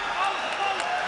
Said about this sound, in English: The crowd cheering his name.